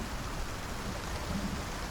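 Steady rain falls in the Icarus survival game, a soft continuous broadband patter with a low rumble underneath, even in level and heard alone with no voices.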